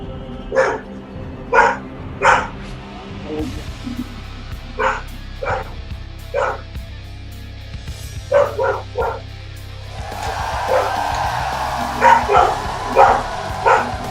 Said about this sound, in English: I hear barking dogs too